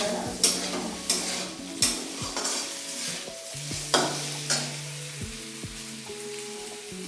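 Potato bhujia frying in plenty of oil, a soft sizzle broken by regular stirring scrapes and clinks of a spoon against the pan, about one stroke per second, with no talking.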